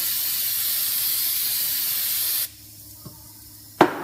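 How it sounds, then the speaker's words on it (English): Brake cleaner sprayed at an angle onto the front wheel hub of a 2001-2012 Ford Escape during a brake job: a loud, steady pressurized hiss lasting over two seconds, then cutting off, followed by a couple of faint clicks and a sharp knock. "you want to spray it at an angle like this, not directly on"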